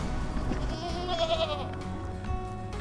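Goats bleating in an urban grazing setting, several wavering calls overlapping in the middle of the clip, moderately close over steady low background rumble.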